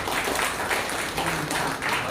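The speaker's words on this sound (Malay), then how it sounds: "Boleh kita berikan tepukan kepada beliau." A seated audience claps for an honoured figure during a forum on current issues, a steady wash of moderate applause lasting about two seconds, slightly distant and even.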